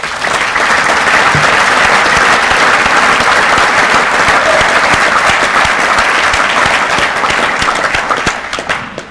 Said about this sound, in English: he deserves a round of applause also